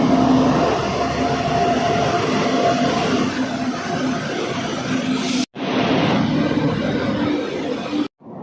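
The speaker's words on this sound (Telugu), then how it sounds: "20811 విశాఖపట్నం నాందేడ్ వచ్చేస్తుంది ప్లాట్ఫామ్ నెంబర్ 1 మీదకి." The 20811 Visakhapatnam–Nanded express pulls into platform 1 behind a WAG-9 locomotive, a loud continuous rumble of rolling wagons and rail noise, broken by two brief gaps, with no voices.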